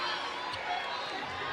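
Student section at a UConn vs Dayton college basketball game cheering a blocked shot, heard as a steady, dense crowd roar that holds for the whole stretch beneath a commentator's voice.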